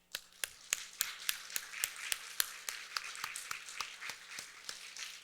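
An Easter church congregation claps together in a steady unison rhythm, roughly eighteen sharp, evenly spaced claps over five seconds above a faint low hum.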